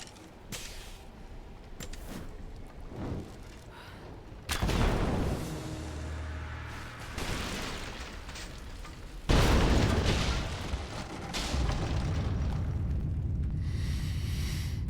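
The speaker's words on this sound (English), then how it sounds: "Looks like I'll have to use Greek fire." Greek fire explosions in Rise of the Tomb Raider, blasting apart unstable statue supports: several heavy booms with rumbling debris and crackling fire, loud and close, separated by quieter ambient stretches.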